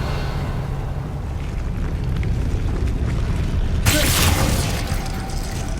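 A Confringo fire blast spell from the video game Hogwarts Legacy erupts in a sudden loud burst over steady game ambience, a single explosive rush that fades over a couple of seconds.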